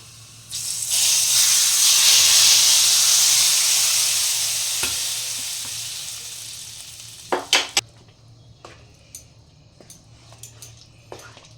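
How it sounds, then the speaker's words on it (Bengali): Tadka of hot oil with kasuri methi poured onto egg dal, a loud spreading sizzle that swells and slowly fades, followed by a few sharp clinks of a utensil. "তড়কাটা লাগিয়ে দিচ্ছ নাকি?"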